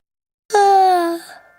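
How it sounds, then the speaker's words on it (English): A cartoon character voices a single drawn-out yawn, starting abruptly and sliding down in pitch over about three-quarters of a second before trailing off, clear and alone. "Y is for yawn."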